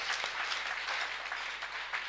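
Faint, distant clapping from a church congregation, a soft continuous patter with a few slightly sharper claps poking through.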